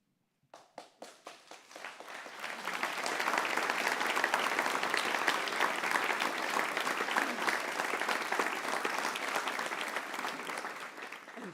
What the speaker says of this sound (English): Thank you for giving them a round of applause.